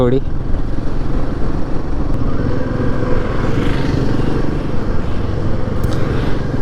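Royal Enfield motorcycles rolling together on a group ride, their engines making a loud, continuous rumbling drone with road noise, close and steady throughout.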